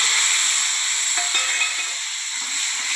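Chopped green chillies and tomatoes hitting hot oil with cumin in a pan for Gujarati dal, giving a steady, loud, close sizzle and hiss that eases slightly, with no talking.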